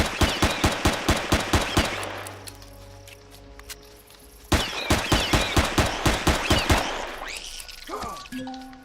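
Video game gunfire in which rapid, evenly spaced shots ring out in a burst, pause for a moment and then start again in a second steady volley. It is loud, close and heard with no talk.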